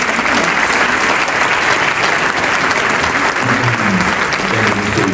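A large audience at the REF 2023 business gathering gives loud, sustained applause for President Emmanuel Macron. The clapping is even and continuous, with faint murmuring low underneath near the end.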